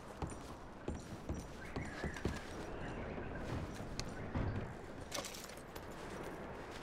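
Hooves of horses in the video game Red Dead Redemption clip-clop at an uneven pace amid scattered thumps and clatter, with faint background noise and no talking.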